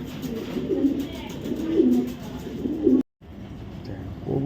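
Racer pigeons, including a big red checker hen, coo steadily and close by in a loft, with a brief dropout near the end before the cooing resumes.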